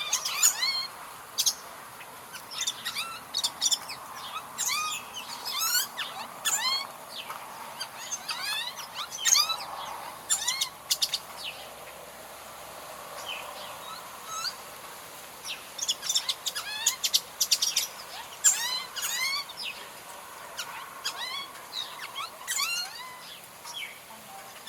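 Changos and troupials give varied calls outdoors: sharp chucks, whistles and harsh notes come in irregular bursts over a soft, steady background, some close and loud, others fainter.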